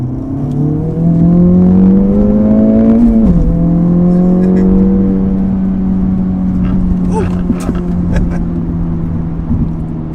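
An Acura Integra Type S engine pulls steadily through curves, its tone rising, dipping briefly, then holding at a constant drone, loud and close throughout.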